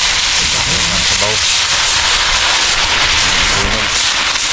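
Crackling cooking fire burning under a pot of soup outdoors by a creek, a steady close hiss and roar with occasional pops, while people talk briefly over it.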